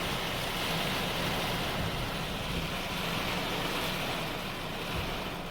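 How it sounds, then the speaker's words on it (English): Rainwater rushing out of a house gutter during a storm, a dense continuous roaring wash of water and wind that holds steady and loud throughout. "I don't know if you can see the water rushing out of the neighbor's gutter."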